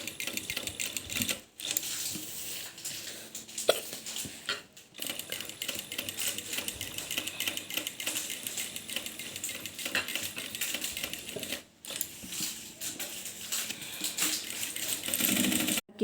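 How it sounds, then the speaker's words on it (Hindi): A sewing machine stitches along the edges of cut work fabric on a palazzo. It gives a fast, close, rattling run of stitches that stops briefly a few times before starting again. "अब हम इसके किनारे किनारे पर सिलाई लगा देंगे।"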